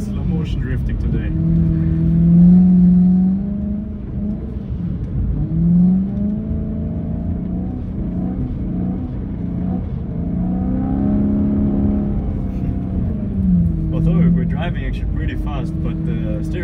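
A 700HP BMW M3 E90 drifting on snow, its engine droning close and loud, repeatedly rising and falling in pitch as the throttle swells and eases.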